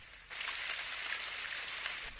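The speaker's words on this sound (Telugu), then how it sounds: "వాన పడుతోంది." Steady rain falls outside where clothes hang drying, a soft continuous hiss that starts abruptly and stays even throughout, with no voices.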